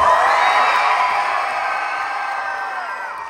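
A choir showcase audience practices cheering and yelling, a loud dense roar of whoops and screams that holds steady and tapers slightly toward the end.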